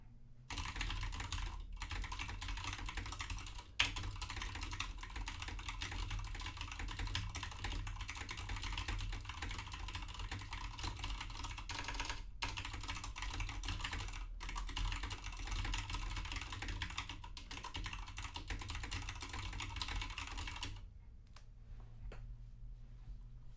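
Steady rapid typing on a computer keyboard during a Monkeytype typing test, dense clattering keystrokes that run close and continuous for about twenty seconds before easing off near the end, with no talking.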